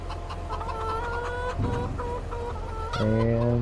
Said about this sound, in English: I like the sounds chickens make.